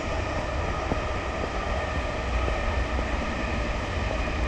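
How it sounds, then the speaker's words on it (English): A train passes close by with a loud, steady rumble and rolling rail noise throughout, heard during a horse ride with no one speaking. "That's a lot of trains."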